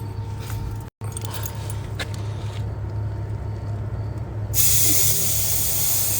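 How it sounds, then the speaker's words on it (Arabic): A bunch of keys jingles and rattles near the door of a pickup truck, over steady engine-like hum, with a sudden bright hiss in the last second and a brief dropout early on. "عاد نفتح الوانيت."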